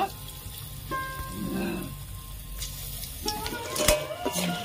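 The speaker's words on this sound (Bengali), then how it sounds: "বাকিগুলো ভেজে নেব।" Bete shaak pakoras sizzle in hot oil in a continuous crackling hiss, broken by occasional stirring scrapes and sharp metallic clinks near the end.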